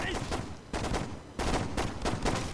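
Explosive bursts from a grenade going off in the Saints Row game, several loud broadband blasts about every half second to second with gunfire-like cracks, a dense chaotic din throughout.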